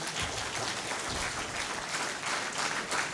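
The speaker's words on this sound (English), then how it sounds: "Round of applause" A conference audience applauding steadily, a dense wash of many hands clapping at even loudness throughout, with no voices standing out.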